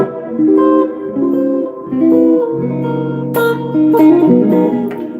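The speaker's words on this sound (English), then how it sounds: "This is my new guitar." A new electric guitar played through effects in a home studio: short melodic phrases and a sustained chord, close and fairly loud, with no talking.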